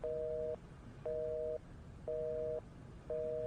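A telephone busy signal beeps in steady, evenly spaced tones, four half-second pulses with short gaps, clear against a quiet line hiss.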